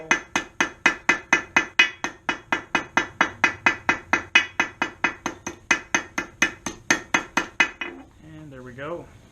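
Hammer striking a hot forged steel hook on an anvil in a fast, even run of about thirty bright ringing blows, close and loud, ending with a brief metallic scrape.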